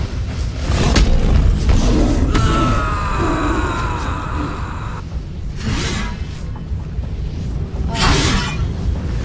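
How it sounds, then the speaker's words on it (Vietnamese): Explosions in the fantasy role-playing game Baldur's Gate 3 during a fight at the Steel Watch foundry: heavy booms and whooshing blasts, several loud bursts spread over a few seconds, with no talking. "Cho nó nổ, không cần đánh nữa, cho nó nổ."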